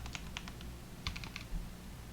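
Typing on a computer keyboard while writing Java code, quiet close key clicks in a few short bursts of rapid strokes separated by pauses, no talking.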